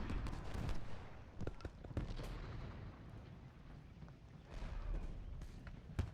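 Artillery shelling in the Civil War battle game Ultimate General Gettysburg: a steady roar of distant cannon fire and battlefield rumble, with sharper booms scattered throughout and no voices.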